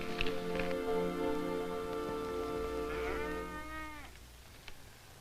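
Cattle lowing for several seconds, a long drawn-out moo with rich harmonics that bends and fades, fairly close, with faint background noise and brief knocks around it.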